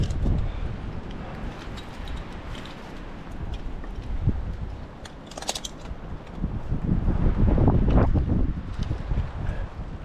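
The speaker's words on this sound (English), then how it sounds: "It's plenty windy, that's for sure." Strong gusting wind buffets the microphone high at the top of a tall tree, a steady roar that swells and surges toward the end.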